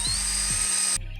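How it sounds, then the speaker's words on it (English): A handheld power drill boring holes during assembly of a DIY 3D printer, a steady high whine running about a second before cutting off, followed by a low mechanical rumble. "drill a couple holes"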